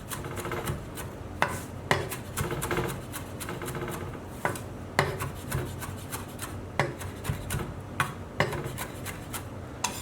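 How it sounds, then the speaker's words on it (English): A knife coarsely chops fresh mint for a salad on a cutting board, making quick scraping rasps broken by a series of crisp taps, fairly close and with no talk. "the mint as well we need to chop, but this is going to be more of a coarse chop"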